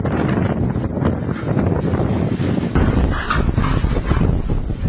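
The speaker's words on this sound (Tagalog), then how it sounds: "Rinig na rinig ang pagugupit ng malakas sa hangin na sinabayan pa ng ulan" Loud, roaring gusts of typhoon wind at signal number 4 buffet the microphone with a constant heavy rumble, rain noise mixed in, never letting up.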